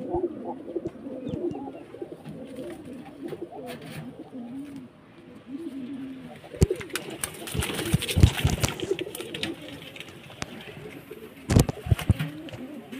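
Pigeons inside a loft coo steadily in overlapping, low burbling calls, with occasional sharp clatters and wing flaps from nearby birds.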